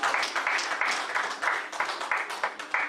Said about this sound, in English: Let's give another clap offering for God this morning.